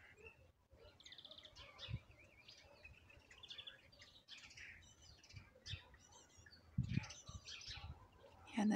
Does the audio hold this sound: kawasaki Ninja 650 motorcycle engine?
no